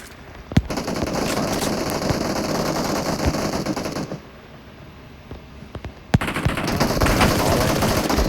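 Rapid automatic gunfire from PUBG Mobile rattles in sustained bursts with sharp single cracks, stops briefly into a quieter lull, then resumes in a fresh volley.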